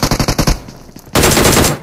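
Gunfire in the battle-royale game PUBG: a string of rapid, evenly spaced automatic shots, a short lull, then a louder, denser burst of sustained fire close up.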